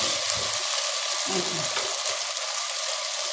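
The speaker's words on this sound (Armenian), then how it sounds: "Թողնեցի եմ տապակի, կարտոֆիլու սոխը, որ իր հետ տապակվում է" Potatoes and onions frying together in a pan give a steady, close hiss and sizzle that runs the whole time, with a few soft low knocks partway through.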